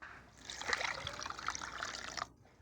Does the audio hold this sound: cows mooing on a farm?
no